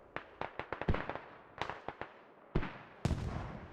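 Mortar fire in a Kamdesh match of a military shooter game: a rapid string of sharp distant thumps, then several louder, heavier blasts with rumbling tails. No voices.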